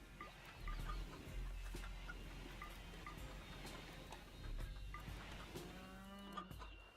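White chickens cluck now and then in the video game RimWorld, over a steady low rumble and a busy mix of farmyard noises, with a cow-like low call in the background.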